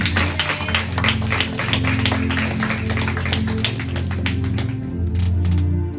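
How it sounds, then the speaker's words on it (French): A church congregation applauds together, a dense steady clapping throughout with a sustained musical tone underneath, loud and close. "Applaudissons le Seigneur."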